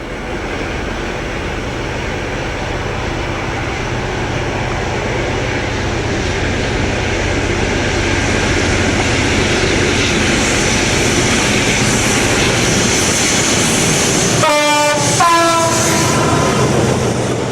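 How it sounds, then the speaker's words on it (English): British Rail Class 56 diesel locomotive 56045 hauls a coke train at Eaglescliffe, its engine roaring loudly and steadily close by, with a brief burst of horn near the end. "Followed by 56045 snorting coke at Eaglescliffe in 1998."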